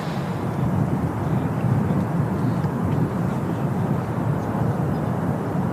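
A SunExpress airliner at Manchester Airport gives a steady, loud broadband jet roar that holds evenly throughout, dense low rumble with no voices over it.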